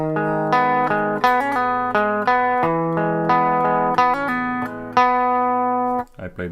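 A guitar strums the opening chord riff of a song in a steady repeating pattern, ringing and close, with a brief scrape of fingers at the end.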